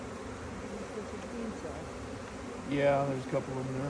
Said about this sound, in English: these are darker bees